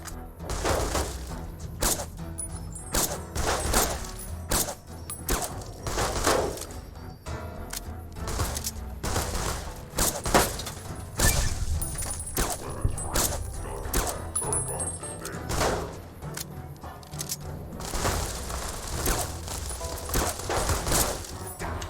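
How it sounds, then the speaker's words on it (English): Robot gunfire in Fallout: New Vegas comes as rapid volleys of shots and sharp impacts in repeated bursts over dense game combat noise, with no pause across the whole stretch. "Was there a robot shooting at me too?"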